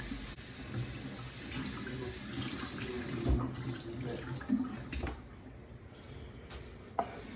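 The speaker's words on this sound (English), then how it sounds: "Just until the water comes out clean from all the starch." Rice is rinsed under a running tap in a kitchen sink until the water runs clear of starch, a steady close rush of water with small splashes and clatters.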